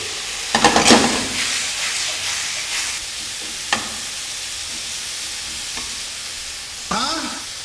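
Steady sizzle of garlic frying in a pan for a lean beef meal, with a few sharp stirring clinks and scrapes breaking through the continuous hiss.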